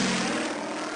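A propeller aircraft engine drones loudly and steadily in Simutrans, a buzzing airplane sound playing for a jet, heard alone for about a second.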